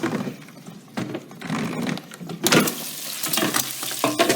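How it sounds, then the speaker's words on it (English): Bacon strips sizzling in a hot pan as they are flipped, with a crackling, spitting fry and irregular scrapes and clatters of the utensil, close and moderately loud. "just make sure you don't unravel your bacon while you're flipping them"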